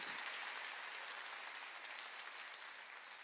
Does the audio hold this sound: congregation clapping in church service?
yes